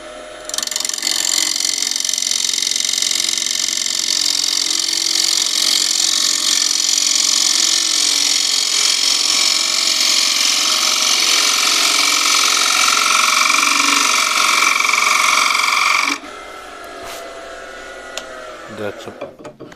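Wood lathe turning a live edge oak bowl with a gouge, a sustained loud whirring cut with scraping tone that runs steadily for about sixteen seconds, then stops, leaving quieter handling noises.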